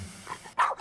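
A dog gives a single short bark, moderately loud and close, after a brief stretch of low background noise.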